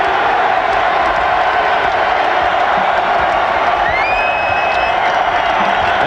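Basketball arena crowd at a 1995 NIT quarterfinal between Virginia Tech and New Mexico State roaring steadily, a loud continuous wall of cheering with a few whistles cutting through near the end.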